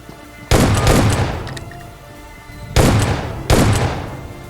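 Gunfire in a shooter video game, three loud sharp bursts of shots, each trailing off with a ringing decay, close and dominant with no talk.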